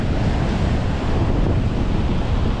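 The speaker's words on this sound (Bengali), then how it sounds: "সমুদ্রের গর্জন আপনারা শুনতেই পাচ্ছেন।" Sea waves roaring against the rocky Cornwall coast beside hills, a steady, loud, dense wash of surf mixed with wind buffeting the microphone, continuous throughout with no talking.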